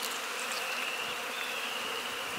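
Honey bees buzz on a brood frame from a spring hive with a breeder queen, a close, steady droning hum without pause.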